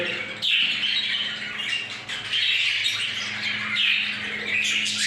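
Several cockatiels squawk and chirp continuously in harsh, overlapping calls, loud and close, with brief pauses between bursts and no talking.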